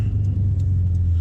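A 2015-2019 Subaru WRX STI running E85 at about 20 PSI holds a deep, steady engine rumble from inside the cabin, a loud low drone with little change over a second.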